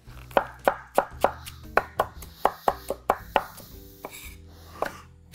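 A knife chopping onion and fresh mint and coriander on a board, in a series of about a dozen crisp, evenly paced strokes, close and clear, then a pause and one or two final cuts.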